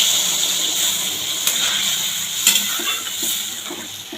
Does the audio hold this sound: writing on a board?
no